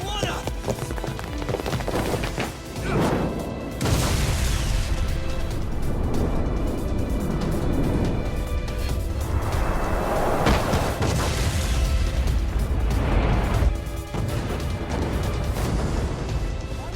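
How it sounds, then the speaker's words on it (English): A ship explodes in the video game Lost Judgment: a heavy boom and rumbling crash sound amid dense game effects and music, with loud bursts recurring over about seventeen seconds. "This ship just exploded!"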